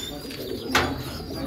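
A male pigeon in a backyard loft coos softly while feeding its chick, a low murmuring call close by, with a brief brighter rustle partway through.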